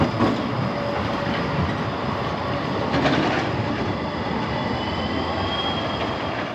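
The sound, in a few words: tram passing on tracks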